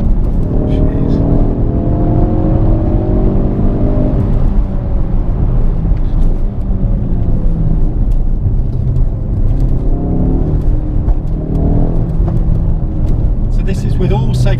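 A Ford Focus RS MK2 accelerates hard, its engine note rising through gears with a loud, close rumble that stays steady throughout, while people talk intermittently over it.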